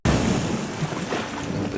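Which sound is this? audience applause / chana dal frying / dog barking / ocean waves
ocean waves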